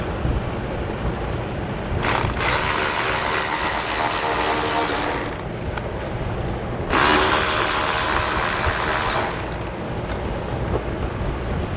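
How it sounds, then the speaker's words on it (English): A ratchet driving a T15 Torx bit loosens Torx head bolts on a 2016 vehicle during a base plate install, heard as two sustained bursts of fast clicking, near and fairly loud, separated by a short pause. "We're going to have 2 Torx head bolts here that we need to remove."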